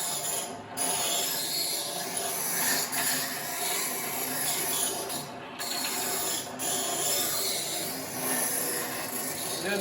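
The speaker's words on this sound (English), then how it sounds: "So what I'll do is I'll take and touch this end up with the grinder here" A grinder sharpens the end of a forged steel flint striker to a point. It makes a steady, close abrasive rasp for several seconds, broken by a few brief pauses. No voices are heard.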